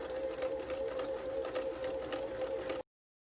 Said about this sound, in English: So I'm going to go ahead and backstitch.